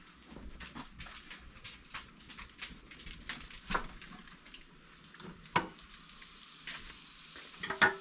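Leftover bacon strips sizzle in a pan for deer bacon burgers, a steady close crackle punctuated by sharp pops and occasional stirring clicks, with no talking.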